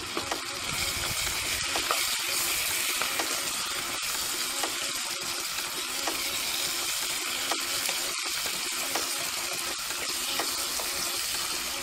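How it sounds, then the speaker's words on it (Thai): Chinese kale stems fry in a pan with a steady, broad sizzle and scattered clicks of stirring, fairly quiet and without any talk. "ก็จะใส่ก้านลงไปผัดก่อน"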